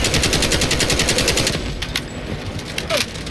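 Continuous automatic gunfire in the shooter Delta Force, a loud close rapid rattle of shots that keeps up throughout, easing slightly toward the end with scattered louder cracks.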